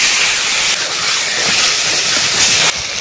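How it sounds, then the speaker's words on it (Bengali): Tomato, turmeric, ginger paste and chili paste with a splash of spice water added to a hot pan, giving a loud, continuous close sizzle and hiss with no talk. "টমেটো, হলুদ গুঁড়ো, আদা বাটা, লঙ্কা বাটা, অল্প একটু মশলা জল দিচ্ছি।"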